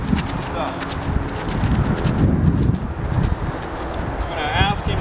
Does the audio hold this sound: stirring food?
no